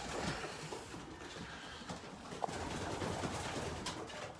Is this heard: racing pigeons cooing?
yes